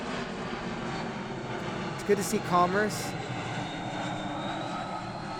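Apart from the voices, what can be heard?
airplanes flying overhead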